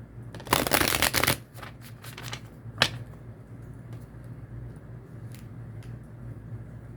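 A tarot deck is riffled close up in a quick, loud burst, followed by lighter shuffling taps and one sharp snap.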